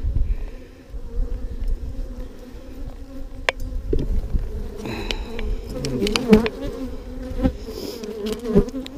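A dense, close drone of honey bees swarms around an open hive during an early-season inspection, with wings whining past and occasional knocks and rustles from handling the equipment.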